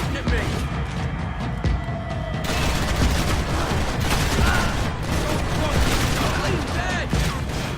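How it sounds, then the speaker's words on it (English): Dense gunfire rattles continuously in a Max Payne 3 speedboat battle, with rapid overlapping shots and booms at close range throughout, and voices shouting over the fire. "Someone stop him shooting at me!"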